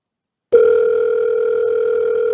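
A mobile phone rings with a loud, steady electronic tone that starts abruptly and holds unbroken, alone without talk.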